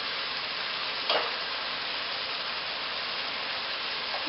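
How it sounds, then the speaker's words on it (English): Vegetable curry in a pot, with spices, reishi mushroom powder and diced sage, gives off a steady, fairly loud hiss throughout, broken by one short stirring scrape near the start. "we're just going to stir this together really good"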